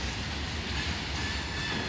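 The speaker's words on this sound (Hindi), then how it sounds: "इधर की तरफ से मालगाड़ी गुजर रही है जो फरीदाबाद से आ रही है" Freight train rolling through the Mathura rail yard, arriving from Faridabad, with a steady rumbling roar and faint clatter of wagons, continuous and fairly close, no voices.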